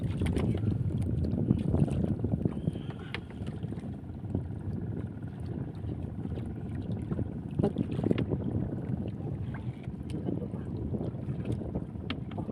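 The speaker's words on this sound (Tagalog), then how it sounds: "Medyo umiihip na yung hangin." Steady gusty wind buffets the microphone with a low rumble, continuous and fairly loud, at a fish corral on the water, with faint water or boat noises beneath.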